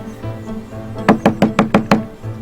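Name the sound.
thumping knock on a door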